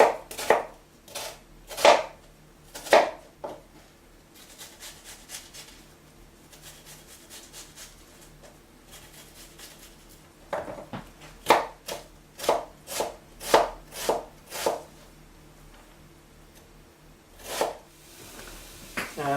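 A knife finely dices an onion on a cutting board in bursts of quick, crisp taps, pausing briefly between runs, close and clear with no talking.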